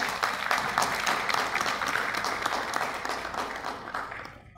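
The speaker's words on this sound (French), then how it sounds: "je vous demande d'applaudir." Applause from an audience at a statistics institute workshop marking its 75th anniversary, sustained clapping at moderate level that thins and fades near the end.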